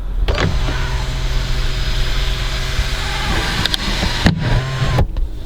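Electric moonroof motor on a 2004 Lexus RX 300 sliding the glass panel open, a steady close whirring hum over cabin noise that stops abruptly with a soft clunk.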